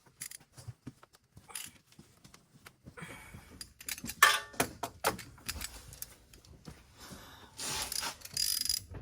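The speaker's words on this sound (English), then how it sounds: "tighten it down with a ratchet after you get it in hand tight" Ratchet tightening the differential fill plug on a 2013 Subaru Outback, heard as bursts of close, quick metallic clicking and ratcheting with brief pauses and handling clatter between them.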